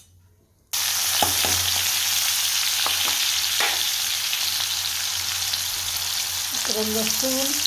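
Cumin and garlic hit hot oil in a pan, a sudden loud sizzle that starts after a brief quiet moment and then holds steady with a few utensil clicks and scrapes, close and with no speech.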